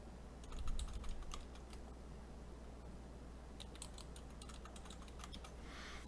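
Computer keyboard typing during NAS setup, quick scattered key clicks in short bursts, close and fairly quiet over a low steady hum, with no talking.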